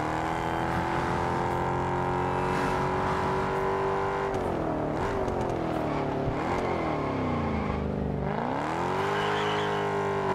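A car drives onto a bridge in the video game Test Drive Unlimited Solar Crown, its engine droning loud and steady, with the pitch dipping and rising as it shifts and revs, and no talking.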